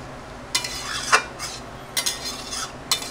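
A utensil stirring a spicy curry of young jackfruit and shrimp in a pan, giving intermittent scraping clinks in small clusters over a soft sizzling bed, close and moderately quiet, with no talking.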